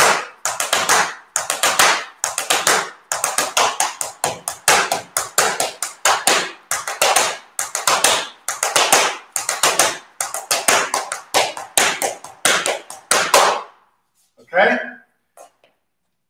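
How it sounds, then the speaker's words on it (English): Sharp, rhythmic heel-and-toe stamps on a hard floor in quick repeating patterns, loud and close, ending with a few softer taps. "It's a good little footwork drill."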